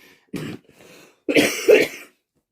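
A couple of rough coughs or throat-clearing sounds, close and fairly loud, separated by short silences.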